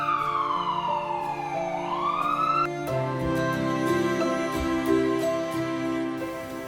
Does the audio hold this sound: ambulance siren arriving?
yes